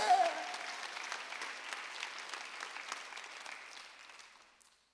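Congregation applauding at a Korean church Sunday worship service, a broad burst of clapping that starts full and gradually thins and fades out over several seconds, with no voices over it.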